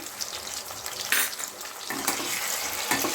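Ginger garlic paste frying in a pan with stirring, a steady broadband sizzle and scraping throughout, with brief louder bursts as the mixture is moved around.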